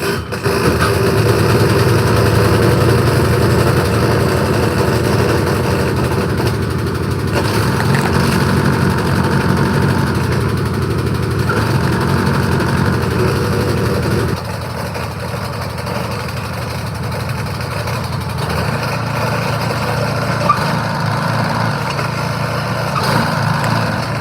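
A Cub Cadet Elite 24-inch snow blower engine runs loud and close without a break, a steady throbbing drone that shifts pitch slightly partway through as the engine settles, with no voices over it.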